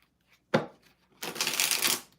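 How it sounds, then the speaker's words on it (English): A deck of tarot cards is shuffled up close: a single quick riffle, a short pause, then a longer crisp fluttering shuffle, with no talking. "Two more shuffles."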